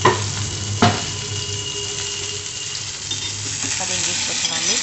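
Pointed gourd (parwal) being stirred with salt and spice powders in a hot pan, a steady close sizzle with soft scraping strokes and a couple of louder clinks, no voices.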